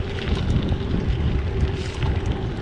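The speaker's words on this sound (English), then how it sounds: "Usually the wind blows along your back along here" Wind blowing outdoors at a park, a steady rushing buffet with low rumbling gusts against the microphone, continuous and fairly loud, no voices.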